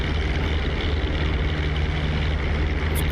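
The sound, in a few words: warbird propeller plane taking off in DCS video game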